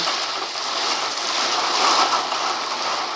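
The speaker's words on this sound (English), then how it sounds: "See, it's actually raining in." Heavy summer storm rain pouring down inside an attic, a loud, steady hiss of drops striking surfaces with no voices.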